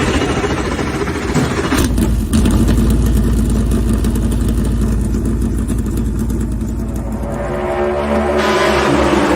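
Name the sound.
race car engines starting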